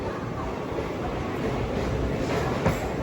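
The Krishna Express rolls through Nellore railway station with a steady, moderately loud rumble and faint rattle, one brief knock near the end.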